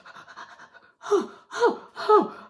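A storyteller's voice imitates a hare out of breath: a run of quick, light pants followed by three loud, drawn-out gasping breaths, close and alone.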